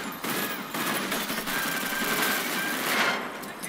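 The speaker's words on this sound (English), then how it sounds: "Strap in for tightly choreographed gunplay." Gunfire from a Baby Driver movie trailer: a dense, continuous burst of rapid automatic shots, loud and sustained for the whole few seconds with no pauses.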